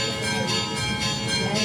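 Church bells ring continuously at a steady volume, a sustained wash of tolling tones that fills the whole moment with no voices over it.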